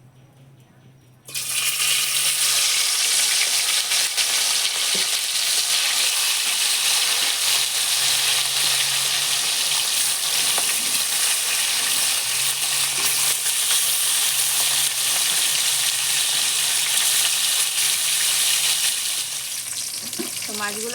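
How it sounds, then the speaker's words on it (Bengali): Silver carp pieces coated in salt and turmeric hit hot mustard oil, and after a brief quiet opening a loud, dense, steady sizzle takes over and holds at full strength until near the end, over a faint low hum. "এবার নুন হলুদ মাখিয়ে রাখা মাছ আমি তেলে দিয়ে দেবো।"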